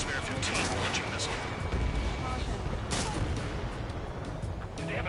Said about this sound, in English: Spare 15 launching missile.